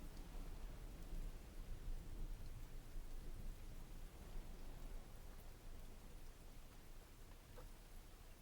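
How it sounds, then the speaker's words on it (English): Steady rain falls outside, a soft, continuous hiss with low rumbling that suggests distant thunder, faint and unbroken throughout with no voices. "We can hear the rain is good too."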